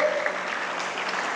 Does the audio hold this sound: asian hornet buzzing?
no